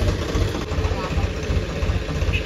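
A tractor engine idles with a steady, throbbing low rumble close by, running continuously throughout.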